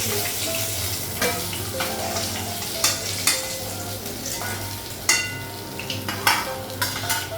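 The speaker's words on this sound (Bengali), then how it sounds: "বাকি মাছগুলো ভেজে নেব।" Fish fries in a pan with a steady hiss of oil, broken by occasional sharp clinks and scrapes of stirring, close and with no talking.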